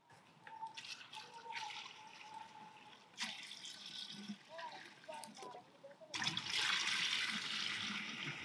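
Rice-washed water and cow's milk poured out for Pongal in a village, a splashing stream that swells and grows loud near the end, with voices talking around it.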